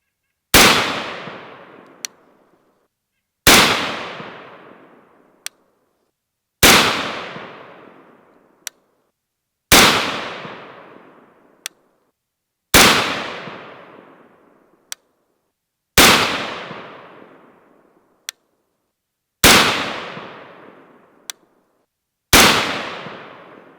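Eight rifle shots of Remington Peters 5.56/.223 ammunition ring out one at a time at steady intervals of about three seconds. Each sharp, loud crack fades into a decaying echo, followed by a faint tinny click.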